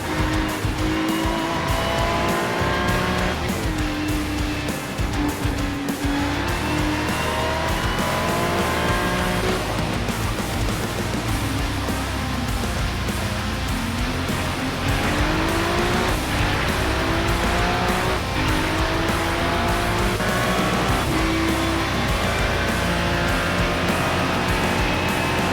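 Ferrari race cars in iRacing at Laguna Seca, near the Corkscrew, with a loud, constant engine roar whose pitch rises and falls through gear changes, plus tire squeal and another car close behind.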